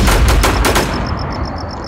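Sniper gunfire in the video game InfestationZ on the Clearview map, a quick burst of sharp loud shots in the first second, followed by a fading, ringing tail.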